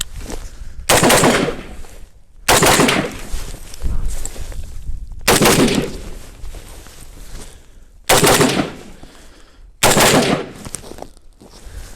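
Five loud rifle shots during weapons training, spaced several seconds apart, each with a booming echo trailing off before the next.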